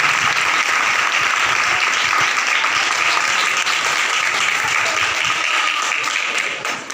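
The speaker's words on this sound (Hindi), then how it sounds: "खुदा के जनाब के लिए जोर से ताली बजाएंगे" A church congregation applauding during a Palm Sunday service, loud sustained clapping from many people that continues steadily before tapering slightly at the end, with no clear speech.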